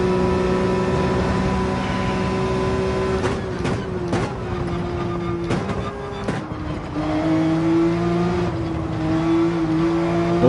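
Race car engines in a racing video game hum and whine steadily, pitch gliding up and down as they rev, with a few sharp transient clicks over a continuous drone.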